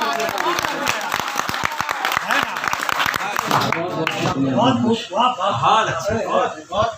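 Applause from the audience at an Urdu-Hindi poetry gathering, a dense patter of clapping that runs loud for several seconds and then thins out, with voices talking over and after it.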